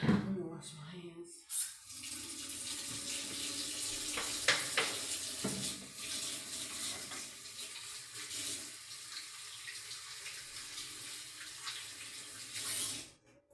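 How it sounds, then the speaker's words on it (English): A tap runs while hands are washed, a steady broad rush of water nearby with a few clattering knocks and splashes, fairly quiet overall. "Let me wash my hands."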